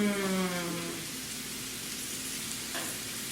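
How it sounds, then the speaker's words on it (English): Butternut squash cubes sear in a hot pan with butter, giving a steady, close sizzle that runs the whole time, with a brief tonal hum near the start. "And you can hear it sizzle. That's nice because that's going to sear it."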